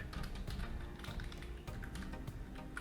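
Rapid, steady typing on a computer keyboard while writing VBA code in Microsoft Access, with dense overlapping key clicks close to the microphone and no voices.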